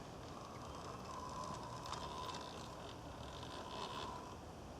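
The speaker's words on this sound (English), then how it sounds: "So let's set the green loco going slowly." Radio-controlled garden railway locomotive, a green loco, running slowly along outdoor track, producing a faint continuous mechanical rattle and clicking of wheels and gears throughout.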